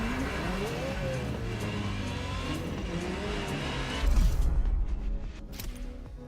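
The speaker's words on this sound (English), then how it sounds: "The car you're about to drive in this opening event is none other than the first Ferrari in the supercar bloodline, the Ferrari GTO." A Ferrari GTO's engine drones and revs steadily while being driven in The Crew Motorfest racing game, with pitch rising and falling, then a louder surge near the end before easing off.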